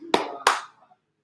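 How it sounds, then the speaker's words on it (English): Two sharp hand claps about a third of a second apart, close and crisp, then quiet, during a live bourbon tasting in Bardstown, Kentucky. "look, everyone's clapping for you"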